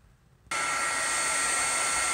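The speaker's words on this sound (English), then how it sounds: "I'm going to heat up my heating tool." Heat embossing tool for ultra fine embossing switches on abruptly and runs as a loud, steady, close-up blowing roar with no break.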